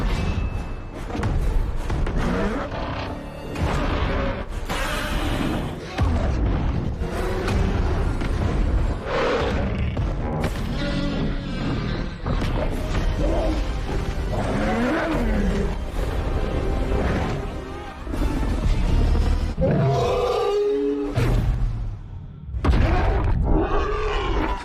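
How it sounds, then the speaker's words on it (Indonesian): Godzilla and Kong battle in a monster film: dense, continuous layers of deep bellowing roars, growls and heavy crashing impacts, loud and close throughout. "Kong yang telah sampai di permukaan kemudian bertarung dengan Godzilla."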